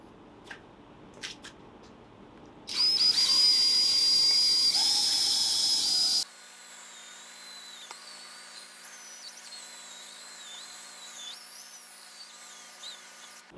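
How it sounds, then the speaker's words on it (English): A power drill spinning a scrub brush across carpet during a dyeing and cleaning job, a loud steady whining buzz lasting several seconds before cutting off to quieter background. "Now we're going to take our brush and our drill."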